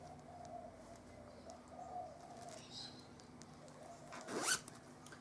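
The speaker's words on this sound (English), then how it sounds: "The purple zip." A zipper on a purple project bag with dotted lining is pulled in one quick, moderately loud rasp near the end, after quiet room tone with faint birds cooing and chirping in the background.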